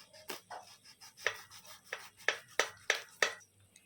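Knife cutting through fried bread snacks on a board, a string of about eight sharp crisp chops at an uneven pace, close and clear with no speech.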